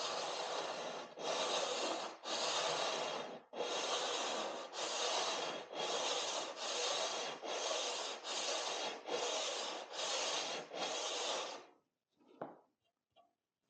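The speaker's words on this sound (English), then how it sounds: "It's just putting it on the edge of the glass and rubbing it along." Abrasive rubbing along the edge of a glass piece to smooth it, a loud harsh rasping in about eleven steady strokes, each a second or so long with brief gaps, ending with a few faint knocks.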